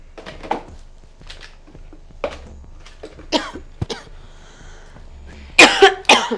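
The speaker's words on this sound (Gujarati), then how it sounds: "આખો દિવસ બસ ખાંસી ખાંસી ને ખાંસી" Several separate coughs, some dry and some harsh, spaced out over a few seconds, ending in a louder burst of coughing up close.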